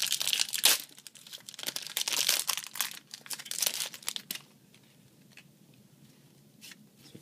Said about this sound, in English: I just decided to go get myself a little gift, just 2 packs of M13, so we're just going to open them